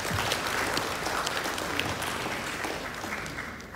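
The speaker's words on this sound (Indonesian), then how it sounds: "Tepuk tangan untuk kita semuanya" A large crowd at a West Java government ceremony bursts into continuous, loud applause that carries on steadily for the whole stretch, tapering slightly at the close.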